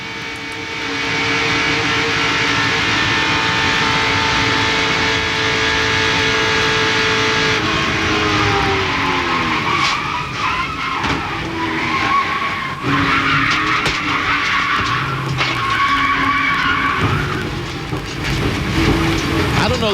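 Loud, continuous roar from inside Dick Trickle's NASCAR Busch Grand National car at Talladega during a wreck, with a sustained engine drone and tyre skidding that shifts and breaks up partway through, then rough scraping bursts near the end, no talk over it.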